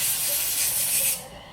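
Compressed air at around 50 psi blasts through small parts of a Briggs and Stratton auto-choke carburetor, a loud steady hiss lasting just over a second and then cutting off abruptly, with no talk.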